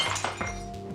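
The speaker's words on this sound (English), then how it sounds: "ffman, who's playing the role of Ted Kramer, throws a wine glass against the wall in frustration" A wine glass is thrown against a wall in a scene from the 1979 film Kramer vs. Kramer, giving a quick run of bright glassy clinks and knocks that fade into a ringing tail.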